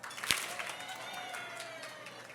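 An audience at the Thurgood Marshall Award Dinner applauds the chair of the dinner committee: a soft, scattered patter of clapping in a large room, quickly fading under a speaker's voice.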